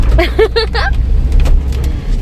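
A car drives along a jungle road at night, its steady low engine and road rumble running throughout, with brief voices talking near the start.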